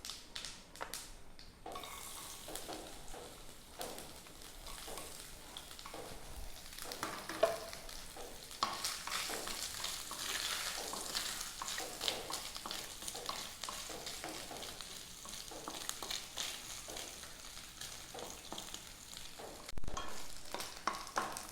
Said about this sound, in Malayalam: എണ്ണ ചൂടായിട്ടുണ്ട്. നമുക്ക് കടുക് ഇടാം.